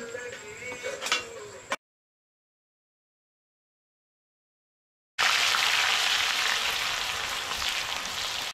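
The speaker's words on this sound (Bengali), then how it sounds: "উচ্ছেটা ভাজছি আগে" Bitter gourd fries in hot oil in a home kitchen, a close, dense sizzle; a brief sizzling start cuts off to silence, then resumes loud and steady.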